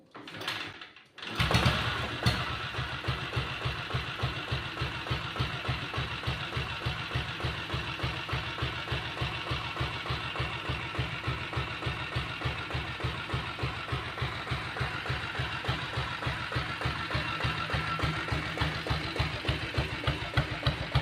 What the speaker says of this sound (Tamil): அப்படியே இந்த வண்டி உங்களுக்கு ஸ்டார்ட் பண்ணி காமிச்சிடுறேன் பாருங்கள்.